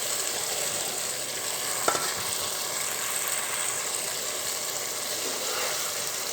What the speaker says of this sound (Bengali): এখন আমি মাছগুলো দিয়ে দেবো একে একে